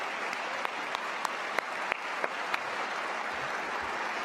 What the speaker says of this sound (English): Let's give all of our faculty and staff awardees one more big round of applause.